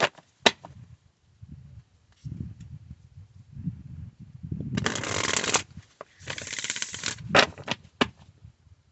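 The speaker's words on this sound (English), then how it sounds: "we are going to pull from the Oracle deck" A deck of Moonology Oracle cards being shuffled by hand, heard as close riffling bursts and soft flaps with a few sharp taps and brief gaps, with no talk.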